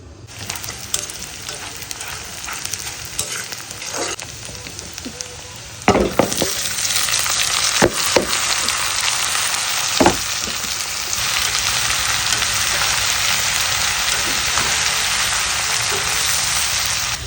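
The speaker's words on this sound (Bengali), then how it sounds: "এখন করলা ভাজির পালা।" Bitter gourd (karela bhaji) frying steadily in a pan, a continuous close sizzle broken by a few louder scraping stirs, with no voices.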